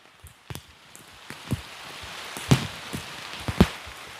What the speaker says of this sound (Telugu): వర్షం అయితే ఎక్కడ ఆగలేదండి చాలా విపరీతంగా పడుతుంది